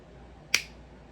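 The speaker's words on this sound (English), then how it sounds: "Let me just snap my fingers real quick" A single crisp finger snap rings out sharply midway through a quiet moment, alone and close.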